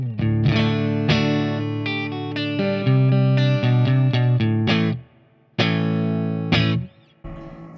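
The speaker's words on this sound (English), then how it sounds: "It's got a beautiful analog spring reverb." Electric guitar played through an Orange 50-watt amplifier with its analog spring reverb turned up, distorted chords ringing out loud and steady, then stopping with a reverb tail before a final strum.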